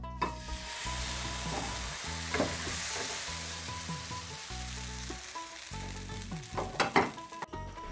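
Rice flour batter sizzles on a greased pan for thin, lacy chakli pitha, a steady close frying hiss with occasional scraping and pops, no talk.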